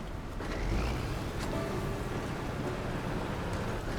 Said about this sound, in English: Man, the rain is lovely here with the guitar.